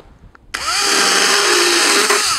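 A power tool bites into dead wood of an old Chenin grapevine arm in a Vouvray vineyard, a sudden loud, steady high whine that starts abruptly and holds close up.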